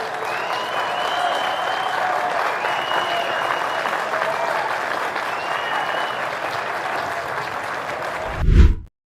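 An audience applauds in a steady, dense wash of clapping that holds throughout before cutting off abruptly near the end, with no talk over it.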